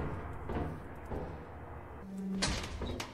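Door in the video game Lethal Company sliding or swinging open at moderate level, with a short mechanical scrape and a clunk near the end over low background rumble.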